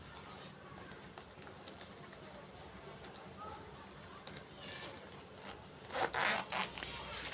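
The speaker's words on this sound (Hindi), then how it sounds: "अब यहाँ पे रनर इंसर्ट कर देंगे।" A zipper runner is pushed onto a stitched zipper for a homemade fabric chapati cover, with faint scattered clicks and rasps that grow into louder scraping bursts near the end.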